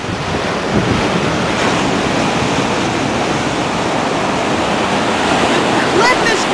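Ocean surf pounds against an eroding coastal cliff, a loud, continuous roar of breaking waves mixed with heavy wind buffeting the microphone.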